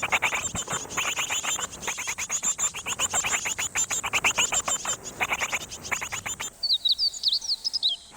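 Great tit calling busily near its nest in a hollow of an old tree while bringing food to its chicks: rapid, dense runs of bright chirps and trills, close and loud, with a few sharper whistled notes at the end.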